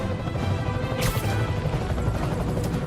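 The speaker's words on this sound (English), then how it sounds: "I'm getting reports of a helicopter with a wrecking ball." A helicopter in a video game smashes into something with a wrecking ball: a dense, loud crash and crunch over a steady rotor drone, with a sharp impact burst about a third of the way in and the noise running continuously throughout.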